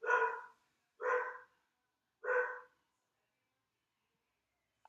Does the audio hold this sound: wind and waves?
no